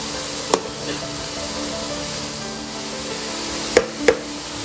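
Grated carrots sautéing in ghee for gajar halwa, a steady soft sizzle and hiss running throughout with a few brief sharp clicks of a utensil against the pan.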